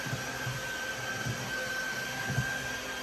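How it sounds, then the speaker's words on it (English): UWANT all-in-one wet and dry floor vacuum running, a steady whirring motor drone with a faint high whine and soft low bumps as it moves, continuous and close. "What I really like about this all-in-one wet and dry vacuum is lightweight, it's self-propelled, easy to use"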